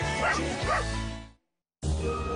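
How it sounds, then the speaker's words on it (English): Toy Dalmatian puppies give bright, high yips and barks, with a short silent gap before another burst of yapping. "Bring them back together and hear them bark happily."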